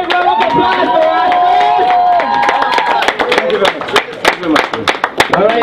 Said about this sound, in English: Hey, round of applause for us.